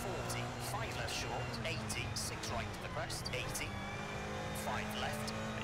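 A rally car engine from the EA WRC video game, held in seventh gear, drones steadily and loudly throughout, with a few higher whining notes, while someone talks over it.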